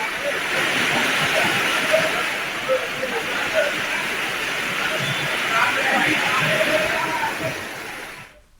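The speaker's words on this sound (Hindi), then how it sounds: "नाले का पानी अपनी सुरक्षा दीवार तोड़कर कॉलोनियों में जा घुसा है" Storm drain water rushes as it overflows through residential colonies after heavy rain, a dense continuous roar of flowing water with splashing, loud and steady until it cuts off.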